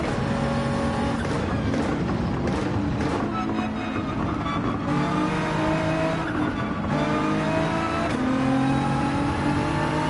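Race car engines roaring through a Gran Turismo 7 online race, a constant dense engine drone with rising and falling revs as cars pass close, loud throughout with no talk.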